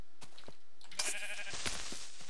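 A sheep bleats in Minecraft, a short synthetic bleat rising out of quieter game sounds near the middle, brief and moderately close, with no talking.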